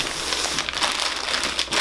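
Loud, close crinkling of a plastic bag, a continuous rustle of handling with no talking.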